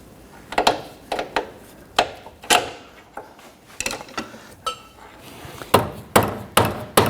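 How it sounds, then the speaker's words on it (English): A hammer taps a front lower control arm on a 1992-1996 Toyota Camry to line up a bolt: about a dozen sharp metallic knocks in irregular clusters, close and loud, with no speech. "We're going to tap our control arm around a little bit to get this bolt to line up in there."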